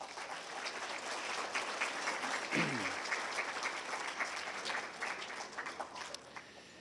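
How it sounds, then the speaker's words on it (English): An audience at a Michif speakers' conference gives a sustained round of applause, dense steady clapping from many hands lasting throughout, with a brief voice rising over it midway. "I'd like us to give those people a round of applause"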